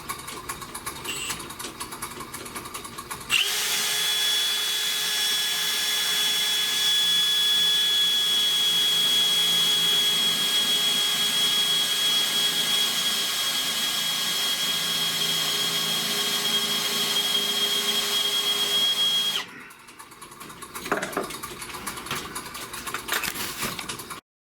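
A drill bores a hole for a convertible door brace on a 1970 Buick Wildcat convertible, cutting in suddenly as a loud, steady, high whine for about sixteen seconds, then stopping abruptly to quieter handling noises.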